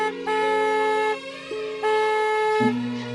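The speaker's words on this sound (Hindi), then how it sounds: "वरना बरू काका हॉर्न बजा बजा के सारे गांव के कुत्ते पागल कर देंगे।" A car horn sounds in long sustained honks, steady and fairly loud, with brief breaks and a shift in pitch between blasts.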